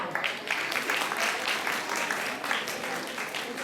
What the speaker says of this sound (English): So a great applause to you from our side.